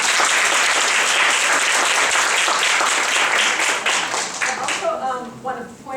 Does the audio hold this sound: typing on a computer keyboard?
no